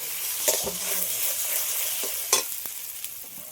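Tomato frying together with ground lentil and shrimp paste in a pan, a constant bright sizzle with intermittent scraping strokes of a spatula, close and fairly quiet, no talking.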